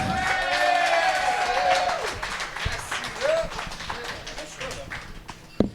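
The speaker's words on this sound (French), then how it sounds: "Ce soir, puis vous allez applaudir super fort, un des open mic qui vient, Mike Chambers, come on!" An audience at a French-language stand-up comedy open mic show claps and cheers loudly for an incoming comedian. The steady crowd applause runs throughout, with a voice speaking over it at the start.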